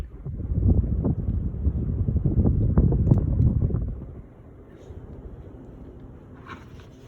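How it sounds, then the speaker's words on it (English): A Regency MX IIi flush-mount ceiling fan runs with a steady, breathy whoosh that is fuller for the first few seconds, then settles to a softer, even hum. "the fan works pretty good"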